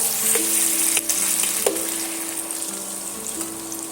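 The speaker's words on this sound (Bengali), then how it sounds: "কষাতে থাকবো যতক্ষণ না আদা রসুনের কাঁচা গন্ধটা চলে যাচ্ছে" Ginger garlic paste frying in a pan for dum aloo, a loud steady sizzle with a few stirring scrapes and no talking.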